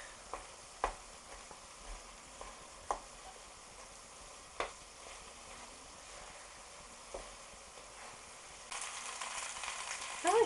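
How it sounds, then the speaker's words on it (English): Flour being stirred into a sauce of meat and tomato puree in a pan for lasagne: faint gentle sizzling with scattered soft scraping clicks from the utensil, growing busier and louder toward the end. "we need to give this a good old stir"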